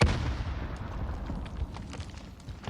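In a shooter video game, a grenade explosion booms loudly at the start, followed by a continuous rumbling roar with scattered gunfire cracks fading slightly over a few seconds.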